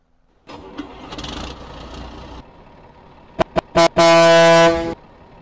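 Scania S truck in a driving game: a diesel engine cranks and catches into a rumbling idle, then two short horn blasts and a long loud air horn blare before the idle settles again.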